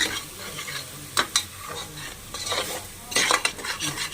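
Chana masala being stir-fried in butter in a pan, with a steady sizzle under repeated scraping and clinking strokes of a spoon against the pan.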